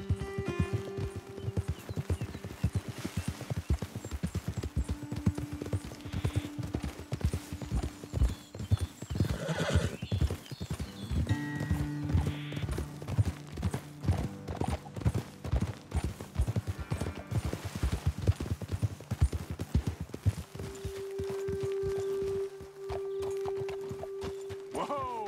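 Horses trot along in the Red Dead Redemption 2 video game, with a steady clip-clop of hooves and an occasional whinny over sustained background game music.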